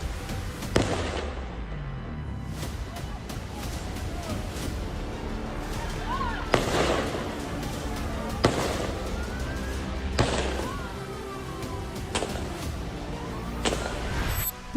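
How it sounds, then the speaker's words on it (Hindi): Gunshots ring out at Bondi Beach in Sydney during indiscriminate firing in a terror attack: sharp, isolated cracks spaced a couple of seconds apart, echoing over a constant background roar with voices present. "जिस तरफ लोग भाग रहे हैं वो उसी तरफ निशाना लगाकर अंधाधुंध फायरिंग करता है।"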